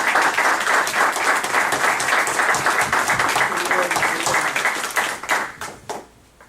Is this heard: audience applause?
yes